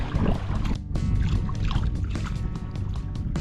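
A kayak paddles on open water at Van der Kloof Dam, with soft splashes and trickling drips from the paddle over a breezy, low rumbling background.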